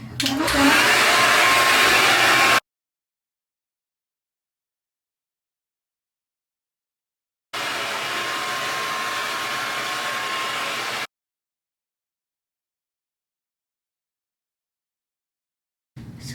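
A hair dryer blows on freshly dyed hair, a loud steady whoosh in two separate bursts of a few seconds each, with silence between them and a brief restart at the very end.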